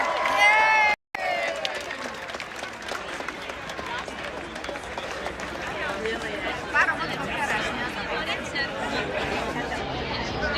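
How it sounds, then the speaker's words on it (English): An audience at a Hungarian festival breaks into applause, a dense wash of clapping mixed with crowd chatter and voices that carries on steadily after a brief cut. "Give yourselves a big round of applause!"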